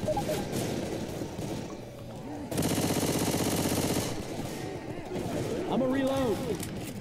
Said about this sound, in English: still have fun shooting zombies.